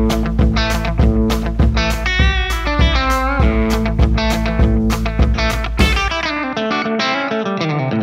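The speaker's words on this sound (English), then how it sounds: "I'm just using the true spring algorithm for some really nice spring reverb tones" A distorted electric guitar through a Source Audio Collider delay/reverb pedal plays a steady riff with short echoing repeats and a springy reverb tail, ending on a ringing chord.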